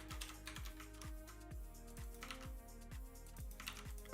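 Rapid typing on a computer keyboard during a coding session: a steady run of close, crisp key clicks that continues for the whole stretch, with no talking.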